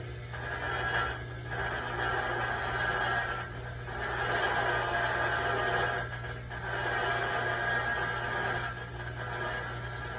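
A wrench tightens a bolt in the wheel well of an older Dodge or Plymouth, giving slow, repeated grinding ratchet strokes about every few seconds against a faint steady hum, with no voices.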